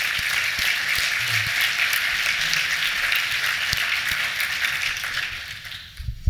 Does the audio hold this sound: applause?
yes